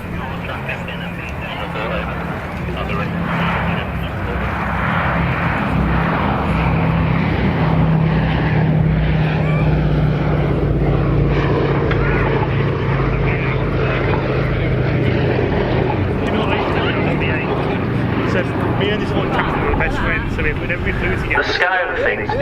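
A B-17G bomber, a P-51D Mustang and a P-47D Thunderbolt at the Cosford airshow pass with a deep, swelling piston-propeller roar that builds and then holds loud for a long stretch, with a sharp knock near the end.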